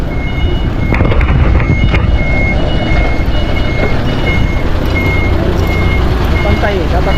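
A trailer truck reverses during driving training while its reversing alarm beeps at a steady, regular rhythm over a loud engine and wind rumble, and people talk throughout.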